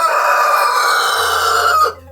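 A rooster crows loudly and close in a long sustained call that cuts off sharply, with a faint low hum underneath near the end.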